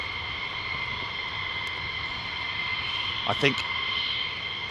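F-15E Strike Eagle jet at RAF Lakenheath, a steady whining jet engine hum with tonal whine, moderately distant, with someone briefly speaking over it.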